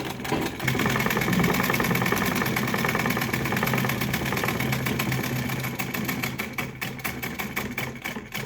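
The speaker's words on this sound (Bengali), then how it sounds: "এবার ধারে ধারে একটা সেলাই দিয়ে দিচ্ছি" Sewing machine stitching along the edge of a half collar, a loud, steady rapid mechanical whir with fast needle clatter that runs without pause throughout.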